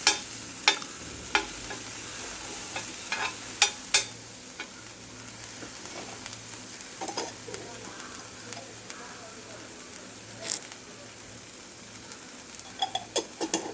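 Something is sautéed with chilli powder and garam masala on a dosa griddle, giving a soft sizzle with sharp spatula taps and scrapes scattered throughout.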